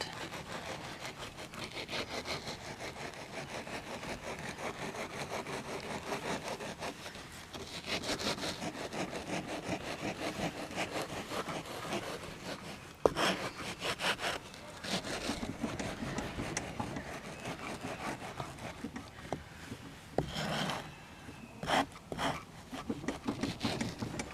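The edge of a board is shimmied back and forth across sand to level it, making a continuous gritty scraping and rubbing with rhythmic strokes. It is close and fairly faint, with no talk.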